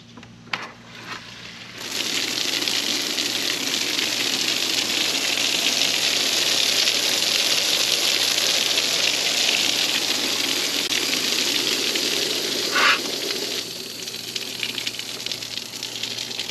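Water sprays and splashes steadily from a homemade outdoor shower, a broad continuous hiss that starts abruptly and holds for most of the clip, loud and close.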